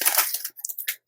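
Paper packaging from an art supply haul is pulled and crumpled during unboxing, with quick crisp rustles and tearing crackles in a close, brief burst that ends in silence.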